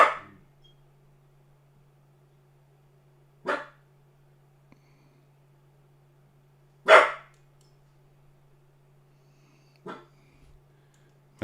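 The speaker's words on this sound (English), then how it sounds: "What's he barking at?" A dog barks in single sharp bursts spaced a few seconds apart, four barks in all, fairly close against a quiet room with a steady low hum and no talk.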